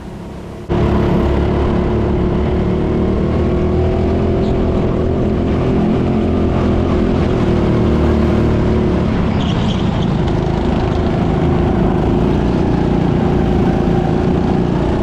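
Go-kart engines race on the TeamSport Leeds indoor karting track, starting abruptly into a loud, continuous buzzing engine drone at close range that holds steady for the whole stretch, with slight rises and falls in pitch.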